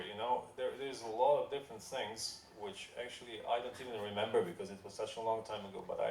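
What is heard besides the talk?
No everyday noise stands out behind the speech.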